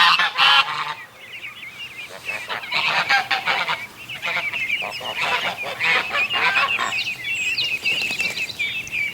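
Several geese honk loudly and repeatedly nearby, overlapping calls in noisy bursts that continue throughout.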